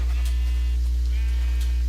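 A Minecraft sheep bleats a few times in the video game, sounding thin and steady over a constant low electrical hum, with no one talking.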